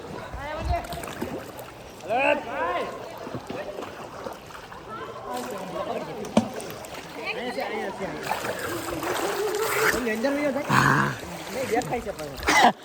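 People dive and splash in swimming pool water, with repeated sloshing and splashing throughout as voices talk and call out nearby.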